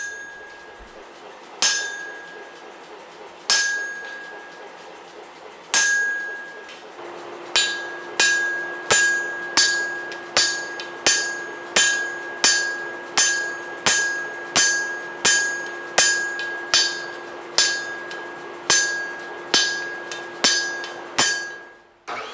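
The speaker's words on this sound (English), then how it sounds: "strike so I could use a flatter" A hammer strikes a flatter while forging bevels on a stainless san mai dagger. A few spaced blows give way to a steady run of loud, ringing metallic hits, close and alone.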